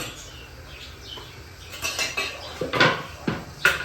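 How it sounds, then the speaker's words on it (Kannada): Metal pressure cooker lid being closed in a home kitchen while cooking beetroot biryani, with soft clinks building into several sharp metallic clanks near the end, close and loud, no talking. "ಕುಕ್ಕರ್ ಲೆಡ್ನ ಮುಚ್ತಾ ಇದ್ದೀನಿ"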